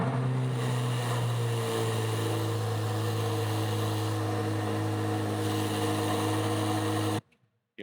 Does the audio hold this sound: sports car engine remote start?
yes